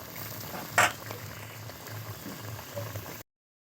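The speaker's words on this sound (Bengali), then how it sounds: "ডিমগুলো দেওয়ার পরে আরেকটু ফুটিয়েই নামিয়ে নেব" Fish roe curry bubbles steadily in a pot, with soft low burbling throughout and one sharp metallic clank near the start, then a fainter knock later on.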